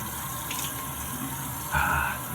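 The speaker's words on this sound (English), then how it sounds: "going to do a cold rinse" Tap water runs in a sink for a cold rinse after a shave, a steady close splashing stream with a brief louder gush near the end.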